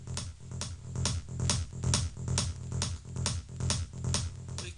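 A psytrance kick drum and rolling bassline play together from Cubase, a steady four-on-the-floor thump with a pulsing low bass filling the gaps between beats, even and continuous with no voices.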